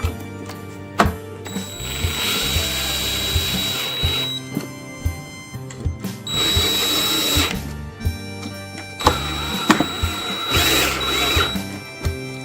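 Screws are driven down with a power drill to fasten a controller plate, several bursts of loud whirring separated by short pauses and clicks, close up with no talk.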